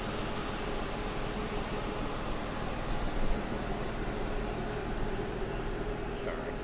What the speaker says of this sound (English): It's quite a bit of noise from the bus.